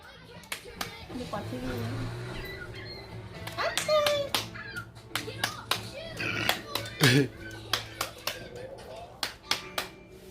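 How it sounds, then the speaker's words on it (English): A young child claps hands at home, a run of sharp, evenly spaced claps close by, with adults and someone talking and laughing in between. "You clap too?"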